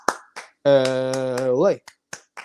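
Short, sharp hand claps land in a quick rhythmic pattern around a drawn-out voice calling out a team chant, part of a college football clap-along count.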